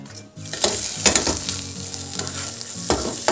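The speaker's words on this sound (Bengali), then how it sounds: "এখানে নারকেলটা হচ্ছে একটু ভেজে নিচ্ছি" Grated coconut frying in a pan, a steady close sizzle with repeated scraping strokes of a spatula stirring through it, no voices.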